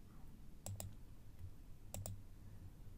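Computer mouse clicking on a drop-down menu while a histogram is built in plotting software: two quick double clicks, crisp and close, faint over a low background hum.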